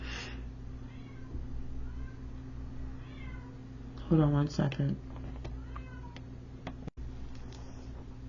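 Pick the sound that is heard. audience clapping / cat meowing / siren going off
cat meowing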